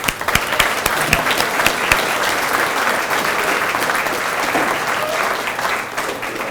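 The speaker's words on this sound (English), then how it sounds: "Let's give them a round of applause." An audience at a veterans' gathering gives a loud, full round of applause for young Marines, dense clapping from a large crowd with a few sharper claps standing out early, sustained evenly throughout.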